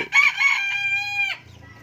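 A single short, high-pitched crow from a three-month-old fighting-breed rooster, thin and slightly strained, lasting about a second before cutting off, close and clear.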